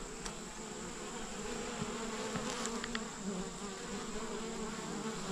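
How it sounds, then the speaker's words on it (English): Dense, steady buzzing of many honey bees swarming around hive supers set out for cleaning, a continuous close hum with occasional louder individual bees passing near. "The other bees are excited, cleaning,"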